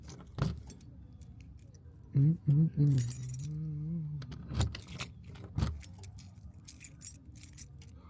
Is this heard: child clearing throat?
no